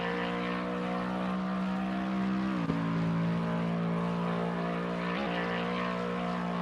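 Lexus race car from Assetto Corsa Competizione on the Monza circuit, its engine droning at a steady high pitch with a couple of brief dips as gears change, loud and continuous throughout.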